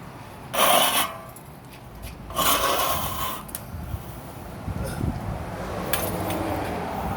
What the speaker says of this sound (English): What I'm gonna do is scrape the edges.